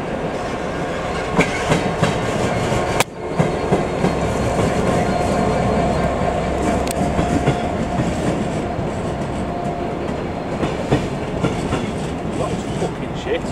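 A train rumbles steadily through Barnetby station with continuous clattering wheels, loud and close, with a sharp bang early on and brief voices in the background.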